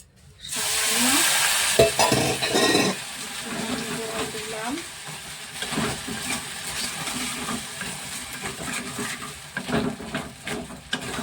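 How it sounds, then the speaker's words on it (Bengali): Sugar melting with a splash of water in a pan for a sweet mung dal puli dish, giving a steady close sizzle with intermittent stirring scrapes and clicks throughout, no voices. "চিনিটাকে আমি ভালো করে একটু গলে যাওয়া অবধি অপেক্ষা করবো একটু মারবো সামান্য একটুখানি জল দেবো"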